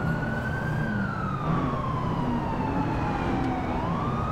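A police siren wails in GTA IV during an LCPDFR traffic stop, its pitch sliding slowly up and down. It sounds continuous and moderately loud over a steady traffic rumble.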